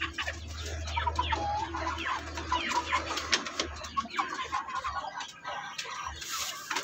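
Three-month-old native chickens cluck and call in a small backyard poultry pen, several birds close by making a busy, irregular run of short clucks over a low steady hum, with no voices.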